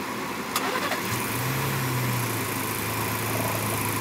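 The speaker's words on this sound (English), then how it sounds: "David started the Bronco up to try again" Ford Bronco engine starting in winter cold turns over and settles into a steady, close, loud idle rumble, with no voices.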